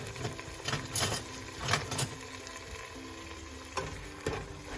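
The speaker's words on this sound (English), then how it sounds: "We're gonna let that saute a little bit." Garlic, nine cloves, and half an onion sauté in a pan, a steady close sizzle and crackle with a few louder pops and stirring scrapes throughout.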